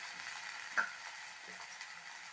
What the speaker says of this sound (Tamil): இப்போது கீரையை ஒரு வதக்கு நல்லா புரட்டி வதக்கிக்கோங்க